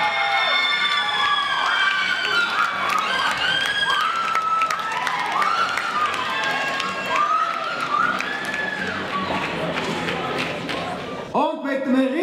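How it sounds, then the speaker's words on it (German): Audience at a contest show cheering, shouting and clapping throughout, with excited high voices and whoops over a continuous crowd roar, ending in a sudden louder burst near the close. "Und mit einem riesigen Applaus entlassen wir Ladies!"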